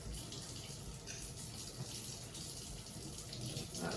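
A kitchen tap runs steadily into a sink as warm water for pizza dough yeast, a continuous close hiss and splash with no gaps.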